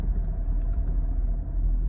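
A car rolls slowly up to a bakery door with a low, steady engine rumble, close and continuous, with no talking.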